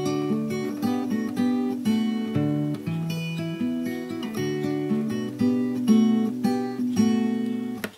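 Fingerpicked acoustic guitar plays the closing phrase of Scarborough Fair, pairs of plucked strings followed by single notes in a gentle flowing rhythm, close and clear, ending as the last note is damped.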